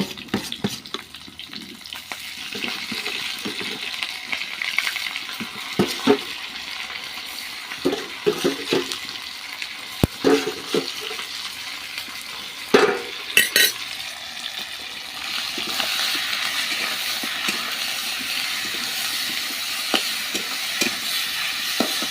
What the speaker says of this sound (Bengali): লাল করে আলুটা ভাজা হয়ে গেছে